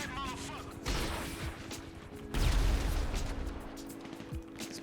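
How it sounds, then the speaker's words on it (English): Gunfire and bullets whizzing past in the video game GTA V, with bursts of shots and impacts, the loudest burst in the second half, mixed with dense battle noise and a steady background hum. "bullets just whizzing by me there"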